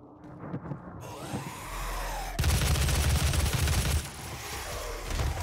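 Gunfire in the video game Doom 2016, a sudden dense burst of loud shots that begins partway through and keeps rattling on over a low rumble, following a quieter stretch of game sound.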